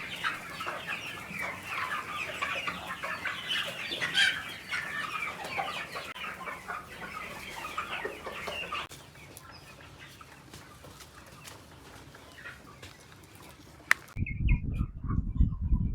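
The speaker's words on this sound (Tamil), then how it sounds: "வெள்ளை கழிச்சில் வந்துருக்கிற கோழி வந்து வீடியோ எடுத்துருக்கிறோம்" Chickens cluck in a poultry shed, a flock suffering from white diarrhoea, with dense overlapping clucks for about nine seconds, then quieter calls, and a loud low rumble at the end.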